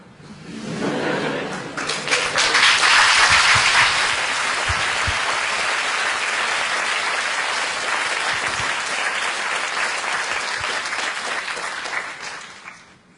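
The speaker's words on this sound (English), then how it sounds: "let's give them a round of applause" An audience applauding at a lecture at HKUST, loud, dense clapping that rises quickly, holds steady for about ten seconds and then fades out, with a little laughter mixed in.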